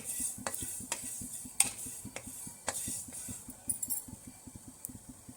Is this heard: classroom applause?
no